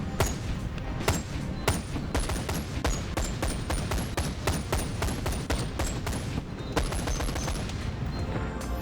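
Rapid bursts of gunfire from a VR shooter game, Boneworks, fired in a tutorial area while testing recoil; dense repeated shots crackle continuously for several seconds, loud and close with no talking.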